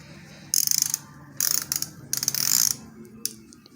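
Inch-pound torque wrench ratcheting in three bursts of rapid metallic clicks, close and fairly loud, separated by short pauses, with one faint click near the end.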